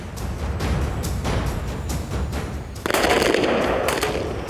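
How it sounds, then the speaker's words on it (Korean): Rapid gunfire from an army special forces moving-fire drill, loud repeated shots in quick bursts with a sharp echoing rattle and a heavier volley near the end. "이동 중 적을 찾아 사격을 실시하는 기동 사격술"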